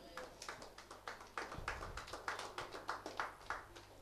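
A church audience claps hands at a Tamil Christian sermon, a quick, uneven run of close claps lasting the whole short stretch, fairly faint overall.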